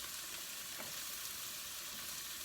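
Garlic for fried rice sizzles in a hot pan with a steady, even hiss and faint crackle throughout, with no voices.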